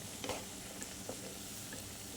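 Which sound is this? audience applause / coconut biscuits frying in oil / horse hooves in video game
coconut biscuits frying in oil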